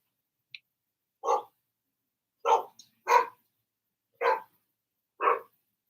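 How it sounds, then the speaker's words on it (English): A dog barks five times in separate, sharp, fairly loud bursts spaced about a second apart, with a faint yip at the start and a short gap between barks; no talking. "See that massive disruption with the dog right there?"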